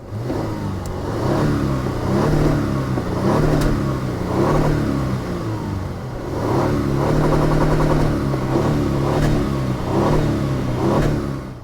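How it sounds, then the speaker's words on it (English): A Lexus LS 500 with F-Sport exhaust revs repeatedly, climbing and dropping in a steady rhythm of loud, throaty bursts. "Let's take a moment to listen to that F-Sport exhaust note."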